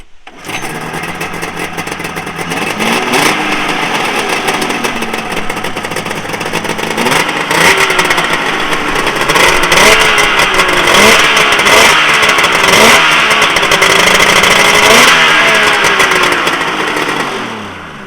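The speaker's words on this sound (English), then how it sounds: "It sounds absolutely incredible, and it's a brand new engine." A brand-new Polaris 750 Storm snowmobile engine with triple pipes starts up and runs loudly nearby, revving repeatedly in rising surges over a steady rough idle.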